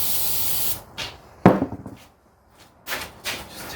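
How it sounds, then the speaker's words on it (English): Brake cleaner hisses from an aerosol can onto a Porsche Cayenne brake rotor in several close bursts: one long spray, a short gap, then a few shorter sprays separated by silence. "grab some brake clean"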